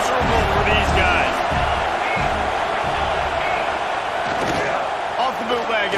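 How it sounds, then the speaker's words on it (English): Stadium crowd roar fills a USC vs Iowa college football video game, a steady loud wash of cheering voices with occasional thumps, running continuously without a break. "This crowd going to try to make life miserable for these guys."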